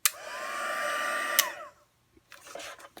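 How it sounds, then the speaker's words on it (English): A heat gun blows steadily while drying ink on a handmade card, a loud continuous whooshing whine that clicks off partway through and winds down, followed by a few soft handling taps. "So we'll just dry it with the heat gun here a second."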